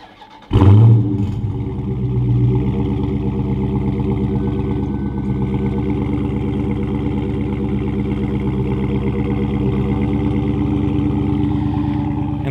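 A 2016 Dodge Charger Scat Pack engine fires up by remote start with a sharp, loud bark, then settles into a deep, steady idle rumble from the exhaust that continues alone for several seconds.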